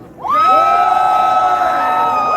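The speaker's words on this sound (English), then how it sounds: "by show of applause or cheers or whatever, how many of you here are members of a union?" A protest rally crowd in Denver bursts into loud cheering, with high whoops and yells rising together and holding.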